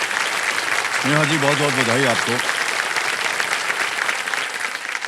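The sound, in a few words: studio audience applause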